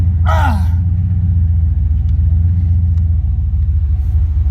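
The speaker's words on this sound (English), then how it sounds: "This thing has no problem spinning the wheels." A work truck spinning its wheels, with a loud, steady, deep engine rumble throughout and a short rising squeal near the start, heard close from inside the cab.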